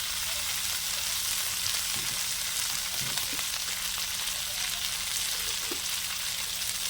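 Curry leaves and coconut lightly sautéing in a pan, a soft steady sizzle with occasional faint stirring clicks, quiet and even throughout.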